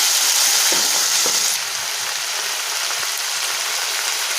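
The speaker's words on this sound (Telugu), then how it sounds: "టమాటో ప్యూరీ వేసుకొని ఒక టూ మినిట్స్ టమాటా అంతా మగ్గనం కదా" Tomato puree fries in a pan for a drumstick, raw mango and egg curry, making a dense, loud sizzle with a few soft stirring taps.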